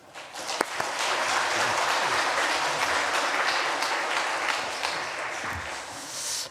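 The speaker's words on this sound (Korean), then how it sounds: "이제 우리 강서로신 이관영 목사님 우리 뜨거운 박수로 모시겠습니다." Warm, sustained applause from a church congregation welcoming a pastor to the pulpit at a Korean teachers' dedication service, a steady dense wash of many hands that swells quickly and holds for several seconds.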